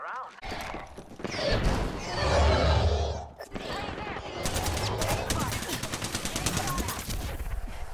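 Rapid bursts of enemy gunfire in a first-person shooter game, loud and dense with sharp repeated cracks throughout, a speaking voice running over them, with a brief drop in the middle before shots resume.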